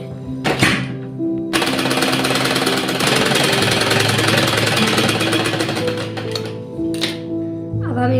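A sewing machine stitches a fabric strip onto the armhole of a baby's halter-neck top in a fast, continuous mechanical rattle lasting several seconds, with short bursts of sound before and after the run.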